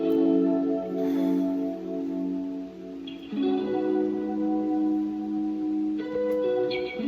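Sustained guitar chords ring out with a shimmering, wavering chorus effect, changing chord every few seconds, steady and moderately loud with no talk.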